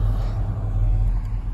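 A 1994 Chevy Caprice on 26-inch wheels cruises along, a steady low road rumble and engine drone filling the cabin without any talk.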